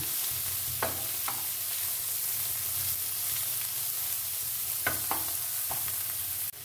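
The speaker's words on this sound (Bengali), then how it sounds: "এবার এতে কপিটা দিয়ে খুব ভালো করে ভেজে নেব, ফুল ফ্লেমে রাখবো।" Cauliflower frying over a full flame gives a steady close sizzle, broken by a few quick clatters of stirring against the pan, with no talk.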